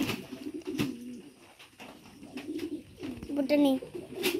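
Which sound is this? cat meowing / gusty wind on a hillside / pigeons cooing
pigeons cooing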